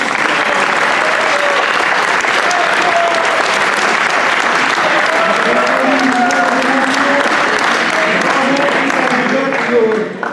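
An audience applauds graduates at a 2015 diploma ceremony, loud sustained clapping from a large crowd running without a break for about ten seconds with faint voices mixed in, then cutting off at the end.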